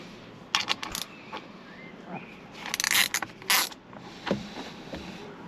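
A ratchet works the steering wheel bolts on an Audi A4 B7 RS4, giving close bursts of rapid clicking and scraping mechanical sounds, separated by quieter pauses.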